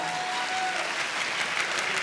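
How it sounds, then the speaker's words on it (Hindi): A leadership gathering audience claps loudly and continuously, a thick, even wash of applause lasting the full moment, with a faint tonal hum underneath early on. "मैं चाहूँगा एक बार जोरदार तालियां"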